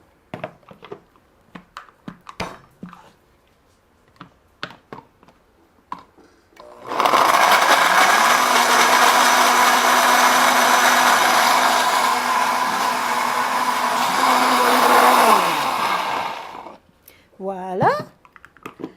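A blender whirs steadily for several seconds, puréeing a chickpea mixture seasoned with a half teaspoon of salt, loud and continuous before winding down, with brief clattering beforehand and a voice speaking just after it stops.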